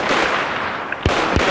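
Gunfire in a multiplayer shooter video game, a couple of sharp close shots cracking over a constant loud wash of game noise.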